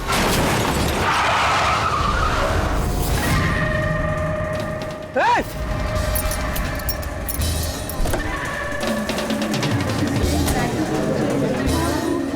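A car skids with a rising tire squeal and a brief impact sound midway, amid loud traffic-like noise, with people talking and shouting throughout.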